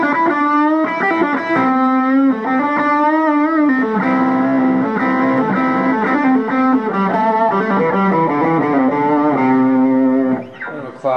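Overdriven electric guitar playing chords and melodic runs, loud and continuous, with a crunchy, sustained distorted tone.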